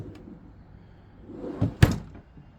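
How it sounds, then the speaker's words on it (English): A ToughBuilt StackTech two-drawer tool box closes, with a soft rising rub and then one sharp, loud plastic thunk, close and alone. "This thing closes with no issues."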